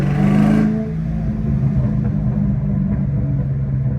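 A 2003 Ford Mustang Cobra with an SLP exhaust and JLT intake rumbles with a deep, steady engine note. It starts with a brief louder rev, then settles into a continuous close idle with no talking.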